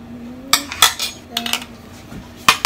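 A metal spoon clinking and scraping against dishes in a home kitchen, a handful of sharp, close clinks in an irregular rhythm over a faint background hum, with no talk.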